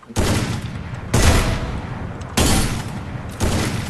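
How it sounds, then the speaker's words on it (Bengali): Video game gunfire comes in four loud, sharp bursts spaced roughly a second apart, each decaying into a rumbling tail, with no talking. "ওটা একটা গুলি তোর পাশে"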